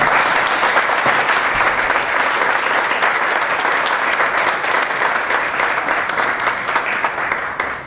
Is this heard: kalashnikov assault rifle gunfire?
no